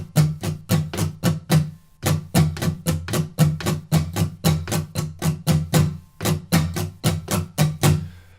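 Guitar strummed in a steady eighth-note pattern with accents, the rhythm part for the intro and verses of a song, playing alone, clear and close, with a short break near the two-second mark.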